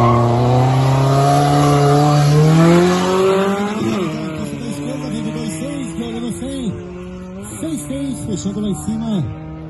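Cars launch in a street drag race, engines revving hard and rising in pitch, then bouncing and stuttering as the tires spin and the limiter chops. The roar is loud and close, with a high whine and crowd noise behind it.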